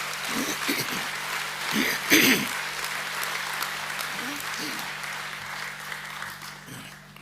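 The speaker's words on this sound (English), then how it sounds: "Can we please show appreciation to the boys with a round of applause?" A school assembly applauds the boys at an academic awards ceremony with sustained clapping from a large crowd, while a voice speaks over it now and then.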